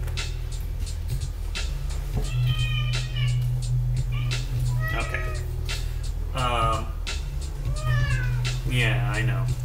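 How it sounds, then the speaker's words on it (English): A cat meows repeatedly in short, insistent cries at varying pitches over a steady low hum, with a person talking between and over the meows. "come on, cat."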